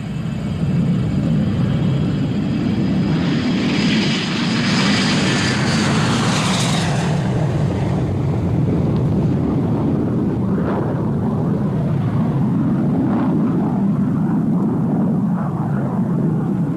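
The Avro Arrow jet interceptor's engines run up for takeoff in a continuous, loud roar. A rising whine comes through early, then gives way to a steady rumbling drone.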